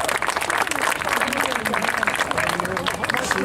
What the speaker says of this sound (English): Would you please give a warm round of applause to Mayor Matt Mahan?